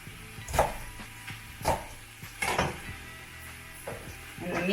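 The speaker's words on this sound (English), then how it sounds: "I'm just going to go give a little stir over here because we don't want it burning." Several clinks and scrapes of a utensil stirring a pot of vegan soup, spaced about a second apart, with a faint sizzle underneath.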